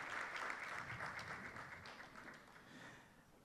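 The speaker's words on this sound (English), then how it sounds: "can you please stand up so we give you a round of applause?" Audience at a youth policy dialogue applauding young researchers, a sustained dense patter of many hands clapping, steady then slowly easing, fairly distant and faint.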